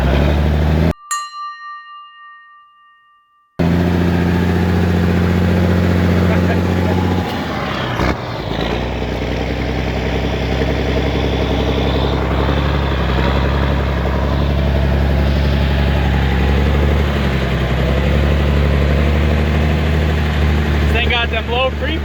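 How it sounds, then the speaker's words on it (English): A deuce and a half military truck drives with a deep, steady engine drone heard from inside, after a brief bell-like ring and a short silence, with people talking over it. "Check this clip out of me driving in his deuce and a half."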